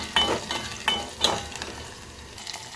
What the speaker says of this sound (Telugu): తాలింపుకి నేను ఏమేమి వేసానంటే ఆయిల్, ఆనియన్, పోపు దినుసులు, కరివేపాకు